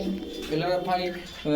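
Pigeons, several fancy breeds at a pigeon shop, coo in low, throaty bursts close by, overlapping each other, with a voice speaking faintly underneath.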